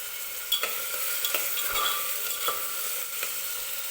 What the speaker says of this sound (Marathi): कांदा भाजतोय आपला